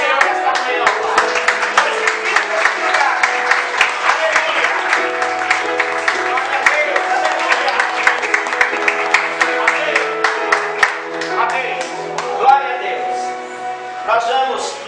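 A church congregation claps through a morning worship service, the dense, steady applause continuing for the whole stretch over sustained tones and faint voices.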